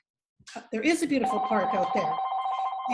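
A phone rings with a sustained electronic tone starting partway through, sounding under a person speaking during an online reading club session.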